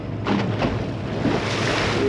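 A boat runs across choppy open water, with steady rushing wash, waves slapping the hull and wind buffeting the microphone throughout, with no voices.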